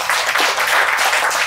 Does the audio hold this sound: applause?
yes